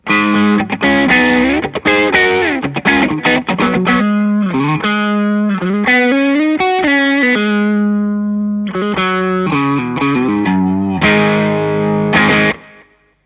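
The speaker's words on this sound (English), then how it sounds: "Same example with the stock Tube Screamer." An electric guitar plays a melodic phrase through a stock Tube Screamer overdrive pedal, warm, with singing sustained notes and crunchy, slightly compressed distortion.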